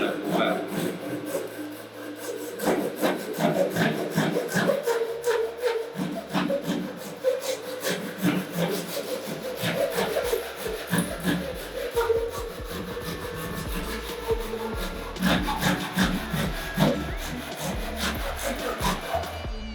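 A Japanese-style pull saw cuts through wood in long, steady rhythmic strokes, close and loud, a rasping back-and-forth that continues throughout with no talking.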